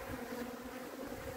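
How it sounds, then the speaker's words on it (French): Honey bees buzz around a hive during a spring honey harvest, a steady, dense, close hum that holds unbroken throughout with no talking. "vous pouvez voir les abeilles, le bourdonnement agréable"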